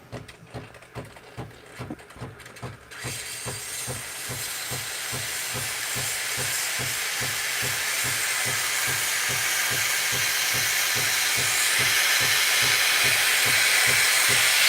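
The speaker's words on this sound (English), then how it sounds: "Okay, steaming is really good, I have to say." A Breville Barista Pro espresso machine's steam wand lets out a steady, loud hiss that keeps building over a rhythmic pulsing pump beat underneath, with no one talking.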